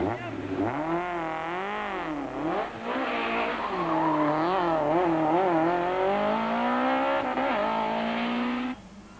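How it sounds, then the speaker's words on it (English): A Nissan Sentra race car in the 1993 Tour de Total spins out past its limit, its engine revving in loud, wavering rises and falls with possible tire squeal, close and sustained before cutting off abruptly. "Hannes pushes the Sentra past its limit and puts the car into an uncontrollable spin"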